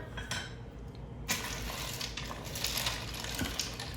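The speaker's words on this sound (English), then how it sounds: "So this is 1 pound of rigatoni going in just like that. I'm gonna give it a stir." A pound of dry rigatoni tumbles into an Instant Pot with a short clatter, then a spoon scrapes and clinks against the metal pot in a steady stirring rhythm, close by.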